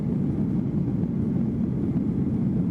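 Constant low droning cabin noise inside an airliner cruising toward Dubai over Central Asia, a steady unbroken engine and airflow rumble with no voices.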